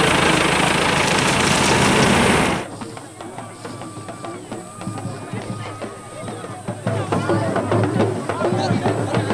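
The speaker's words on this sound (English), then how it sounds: "there was another village nearby willing to lend us their tractor" A tractor engine in a Ghanaian village drones steadily at close range, loud at first and then lower and rumbling under a murmur of voices.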